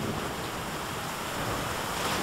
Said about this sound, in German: Und Wind zieht auf.